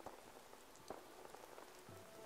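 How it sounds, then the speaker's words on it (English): Steady rain patters on surfaces in the video game Fallout 4, a soft, continuous hiss of drops with a few louder taps, fairly faint and without speech. "Not digging the rain."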